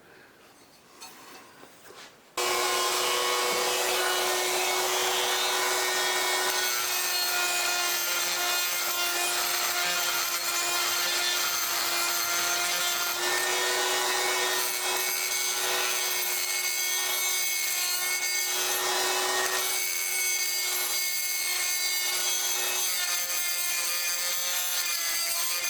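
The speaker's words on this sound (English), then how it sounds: "I'm going to go over to the vise with a die grinder and a carbide burr and relieve a little bit more" A die grinder fitted with a carbide burr cuts into a metal pulley part held in a vise, a loud, continuous high whine with a harsh grinding edge that runs for over twenty seconds after a brief start.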